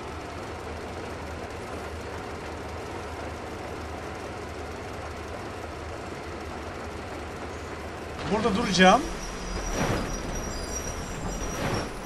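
A train rolls along in the video game Metro Exodus, producing a steady, broad mechanical rumble that swells slightly near the end, with someone speaking briefly over it.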